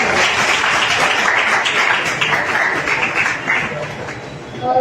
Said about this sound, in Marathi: आपण तर स्वतःसाठी आपण एकदा स्वतः टाळ्या वाजवूयात आणि स्वतःचं अभिनंदन